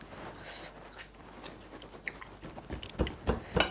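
Loud, wet open-mouthed chewing and biting while eating spicy food, close up, the crunching growing louder and more rhythmic toward the end.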